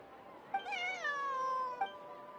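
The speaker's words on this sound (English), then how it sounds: "could I possibly take a closer look at the cat?" A cat in the Genshin Impact video game gives one clear, drawn-out meow that rises and then slowly falls, heard close and alone over a quiet background.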